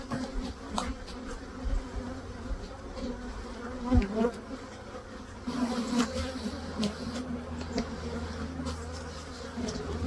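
Honeybees from an untreated hive buzz loudly and continuously as they are shaken into a hive cover for a varroa mite test, a dense close-up drone with a few knocks and no talk.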